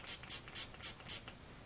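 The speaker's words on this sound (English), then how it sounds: "I'm going to spray the flat brush with water." Five quick bursts of a water spray bottle misting a flat makeup brush, close and evenly spaced, each a short soft hiss with brief gaps between.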